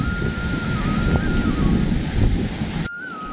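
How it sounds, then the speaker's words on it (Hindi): Strong cold mountain wind roars continuously in the Darma valley near a bridge, a loud broadband buffeting against the microphone that cuts out abruptly near the end, with no speech. "बहुत ही ठंडी हवा चल रही है।"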